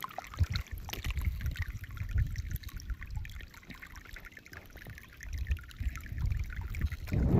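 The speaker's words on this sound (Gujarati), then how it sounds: "જો મિત્રો આ પાણી આવે છે" Irrigation water runs through a cotton field at sowing time, a low, gurgling trickle that swells and eases, fairly faint and close.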